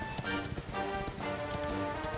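A horse's hooves clip-clop at a steady trot in the video game Dragon Quest XI on PS4, with the quick rhythmic beats continuing over game music and no one talking.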